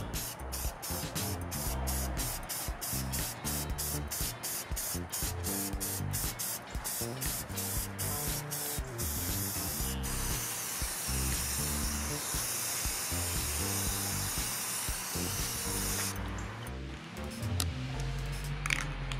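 Aerosol spray can laying clear coat onto mud flaps, with repeated short bursts of hissing spray in quick rhythm, then a longer continuous spray pass near the end, close and loud.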